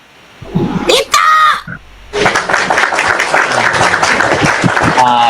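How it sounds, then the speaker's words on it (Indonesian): Church congregation bursts into applause, dense sustained clapping filling the room after a stretch of speech, with voices heard before it begins. "Tepuk tangan dulu."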